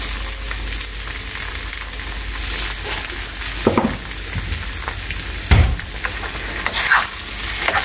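Cooked noodles in huancaína sauce with grated cheese are stirred in a pan, making a soft wet sizzle with occasional sharper scrapes and clinks of the utensil, close and alone.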